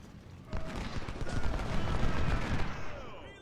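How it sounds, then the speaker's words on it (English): Dense, continuous gunfire and booming artillery from a Civil War battle at Corinth in the strategy game Ultimate General: Civil War, a loud sustained roar of overlapping shots and cannon blasts with no clear gaps. "A lot of artillery, a lot of fire happening here."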